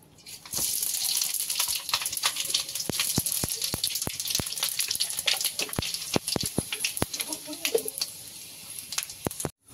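Panch phoron spices sizzle in hot oil for a tilapia fish curry, making a steady bright frying hiss with scattered sharp crackles and pops throughout, close and fairly loud, with no talking.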